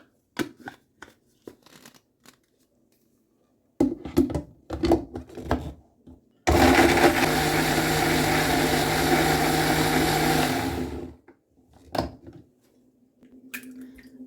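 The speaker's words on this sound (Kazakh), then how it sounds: "Осылай блендерге салып езіп аламыз." A blender whirs loudly and steadily for about four seconds, pureeing peeled mandarins, framed by sparse kitchen clatter and quiet handling noises before and after.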